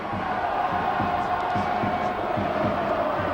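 Large stadium crowd at a Sheffield Eagles rugby league match at Don Valley against Bradford, a record home attendance, producing a steady roar of voices with rhythmic chanting, loud and continuous throughout.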